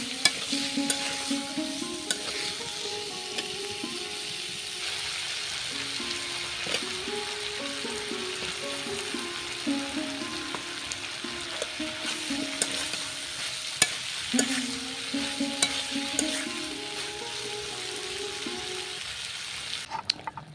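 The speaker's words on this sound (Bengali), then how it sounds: "আমি তার মধ্যে দিয়ে দিলাম আলু দিয়ে ভালো করে কষিয়ে নেব" Potatoes being sautéed in cooked-down spice masala for a Bengali curry, with a continuous sizzle and frequent scraping, clinking stirs of a spoon against the pan, steady and close throughout without speech.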